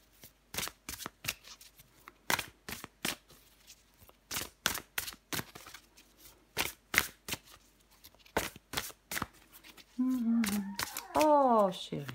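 Tarot cards shuffled and drawn up close, a rapid run of crisp riffling snaps and slaps, followed near the end by a voice speaking over the last card sounds.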